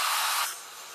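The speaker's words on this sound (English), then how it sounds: "I'm just going to hit this with the blow dryer." A handheld blow dryer blasts air at a fabric pillow case, a loud broadband rush that cuts back to a softer steady hiss about halfway through the second.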